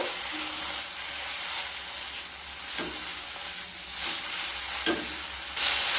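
Spices with turmeric, roasted cumin, coriander powder and ginger paste sautéing in a pan for masoor dal with drumsticks: a steady close sizzle throughout, with a few sharper scraping strokes of a stirring spoon.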